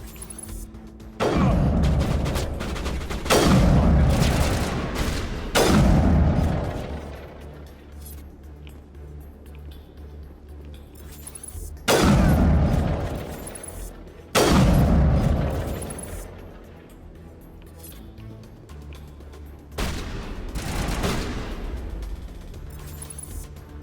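Heavy booming shots in Mass Effect 1 on Insanity difficulty ring out as loud, widely spaced blasts, each one decaying into a rumbling tail.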